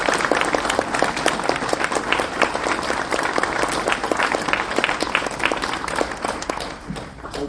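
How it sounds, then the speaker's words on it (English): Lecture audience gives a lecturer a round of applause, a lively, continuous clatter of many hands clapping close and full, easing off slightly just before the end. "let's give a round of applause."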